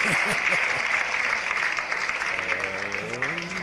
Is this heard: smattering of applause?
yes